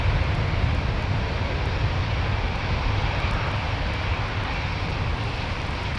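CFM-powered airliner engine at London Heathrow Airport, a loud steady roar with a broad rushing hiss that holds constant throughout, no voices.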